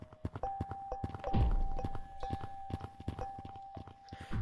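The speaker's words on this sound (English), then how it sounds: "And the bigger the crystal, the deeper the sound." Crystals struck in the video game Gorilla Tag, with a steady run of hollow knocks and thunks over a sustained ringing tone and one deeper boom early on, moderately loud and with no speech.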